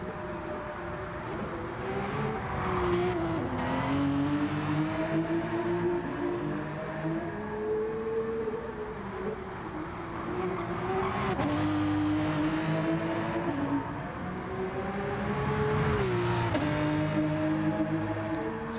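A race car engine climbing through its revs again and again during a Nations Cup final race, with gear changes, loud and continuous, plus faint tire squeal.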